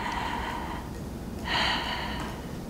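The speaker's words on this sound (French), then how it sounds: "prenez une grande respiration" A patient at a medical check-up inhales deeply, a single audible breath swelling in the middle of the clip over a quiet room hum, with no speech.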